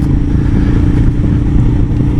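A 2019 Royal Enfield Himalayan is ridden on an adventure outing. Its engine gives a loud, close, rumbling drone mixed with wind and road clatter for a couple of seconds, with no talking.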